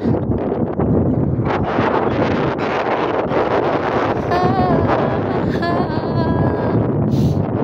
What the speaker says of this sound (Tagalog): Mahangin man